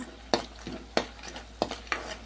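A spoon stirs tamarind rice with its tempering of spices in a pan, giving four or five distinct scraping strokes at a steady rhythm over a faint background sizzle, close and moderately loud with no talking.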